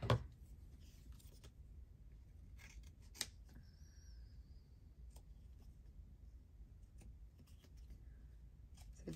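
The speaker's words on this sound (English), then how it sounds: "Just trimming off my corners," Scissors snip a few times, quiet and close, trimming the corners off paper journal cards at a craft table, with faint paper handling between cuts.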